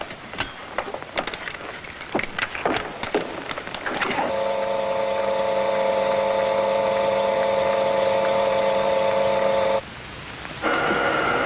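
A 1950s science-fiction spaceship blast-off effect: a few sharp clattering clicks, then a loud, steady droning roar that holds for several seconds, briefly drops out and surges back.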